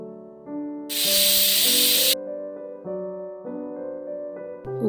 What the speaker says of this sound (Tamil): குக்கரில் கேஸ் ரிலீஸ் ஆனதும் ஓப்பன் பண்ணலாம்.